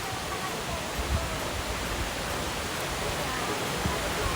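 Can Umantad Falls, a waterfall in Anda, Bohol, gives off a steady, dense roar of falling water with no pauses. It sounds close and fills the whole clip.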